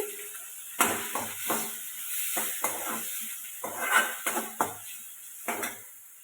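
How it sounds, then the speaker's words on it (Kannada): Onion and tomato frying in a pan, with a soft continuous sizzle under repeated clinks and scrapes of a spoon stirring against the pan. "ಸ್ವಲ್ಪ ಈರುಳ್ಳಿ ಟೊಮೊಟೊ ಎಲ್ಲ ಸ್ವಲ್ಪ ಚೆನ್ನಾಗಿ ಸಾಫ್ಟ್ ಆಗೋವರೆಗೂ ಹುರ್ಕೊಂಡ್ಬಿಟ್ಟು"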